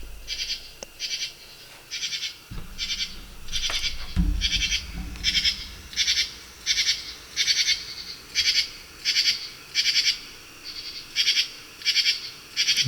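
A bright green insect, not a cricket, calls at night in loud rhythmic pulsing bursts repeated steadily about every second, with a few soft knocks and rustles early on and no voices.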